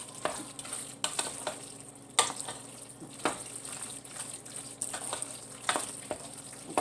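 Cheeseburger mac and cheese with melting provolone being mixed in a pot: soft wet stirring with periodic spoon scrapes and clicks, fairly quiet and close, with no talking.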